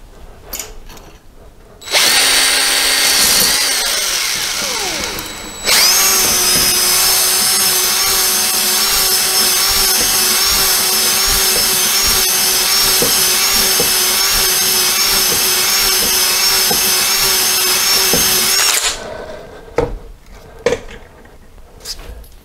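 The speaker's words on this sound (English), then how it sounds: "I've got the ball hone in the drill. Now, I'm going to run it in and out at about 2 strokes a second" A ball hone spun by a power drill works in and out of a 1983 BMW R80ST motorcycle cylinder, a loud, steady whirring grind that starts, briefly pauses, then runs continuously for about thirteen seconds before stopping.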